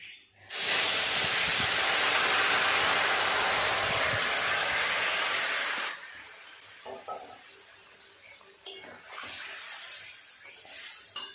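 Vegetables tipped into hot oil with fried tempering spices for a lightly sauced vegetarian curry, bursting into a loud, steady sizzle that holds for several seconds, then dies down to quieter crackling and scattered pan noises.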